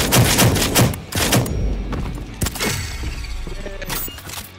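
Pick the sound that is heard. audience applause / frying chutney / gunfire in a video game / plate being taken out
gunfire in a video game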